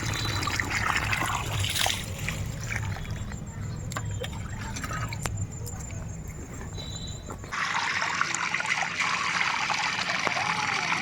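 Water mixed with liquid organic fertiliser pours onto the base of vegetable plants, a steady splashing trickle that runs without a break and brightens into a sharper hiss partway through.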